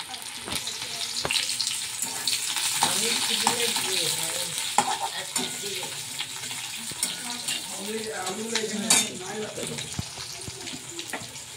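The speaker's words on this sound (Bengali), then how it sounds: "এবার দিয়ে দিচ্ছে পেঁয়াজ ভাজা।" Fried onions crackle and sizzle steadily in hot oil with dried red chillies, with occasional stirring scrapes and a voice talking quietly in the background.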